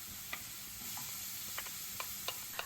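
Leeks and green onions sizzle softly in a pan on the stove, with a steady frying hiss broken by several light clicks and scrapes as the vegetables are stirred.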